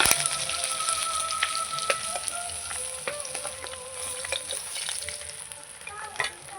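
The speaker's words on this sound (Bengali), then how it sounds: "বাদ বাকি মাছগুলো ভেজে নেবো" Pieces of catla fish sizzle continuously in hot oil in a pan, a dense, even crackle heard up close with scattered small pops and no talking.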